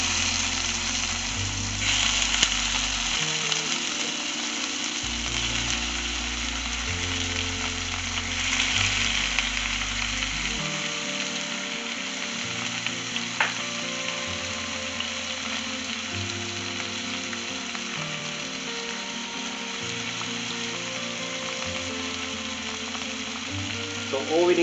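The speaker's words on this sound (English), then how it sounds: "So I'm using tomatoes first because they need to be shallow fry." Tomatoes shallow-fry in a pan for an Arabic maqlooba, a constant close sizzle and hiss lasting the whole stretch, with occasional sharper crackles over a pulsing low background and no clear talking.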